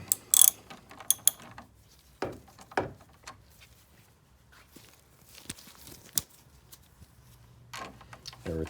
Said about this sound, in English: use the 10mm socket to tighten it up.